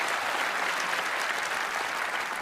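Oscars ceremony audience applauding, a dense, even wash of clapping from a large crowd that holds steady and loud throughout, with no speech over it.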